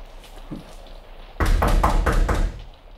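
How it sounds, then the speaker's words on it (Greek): Someone pounds on a door in a quiet room, a sudden close burst of several heavy, thudding knocks that fades after about a second. "Ποιος μπορεί να χτυπάει έτσι την πόρτα μου?"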